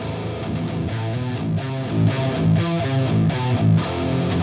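Distorted metal guitar riff played through the ProFet amp simulator in FL Studio, steady chugging palm-muted chords with a thick, saturated tone, loud and continuous with no voices.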